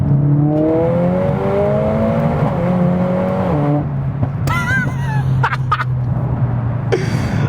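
A tuned Mercedes-AMG A45S of over 500 bhp accelerates hard in third gear, its engine a loud, steady drone climbing in pitch, with a gear shift midway and brief high whistles and crackles.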